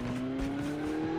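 A vehicle engine in the mobile shooter Call of Duty Mobile drones steadily at close range, a continuous tonal hum with no other sounds over it.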